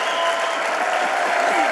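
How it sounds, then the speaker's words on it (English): An audience at the Pagani Utopia world premiere applauds in a dense, continuous wash of clapping from a large crowd, heard close and without a break. "Le ho fatto venire soprattutto per applaudire"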